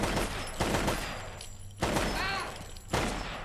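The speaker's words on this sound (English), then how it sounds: "Who are you shooting? A researcher?" Gunfire from the video game Fallout London comes as several bursts of shots with booming impacts, mixed with game sound effects and a voice, fairly loud throughout.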